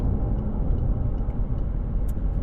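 A Volkswagen Tiguan SUV with a 2.0 TDI diesel engine accelerating hard from about 50 km/h, heard from inside the cabin as a steady, loud low rumble of engine and road noise throughout, with no talking.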